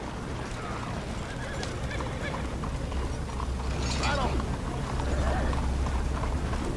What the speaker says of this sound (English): Get on your horse, John.